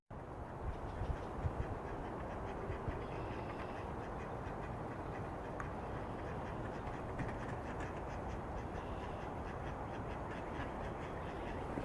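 Scattered quacking from ducks over a dense, rustling background, the calls faint and irregular throughout.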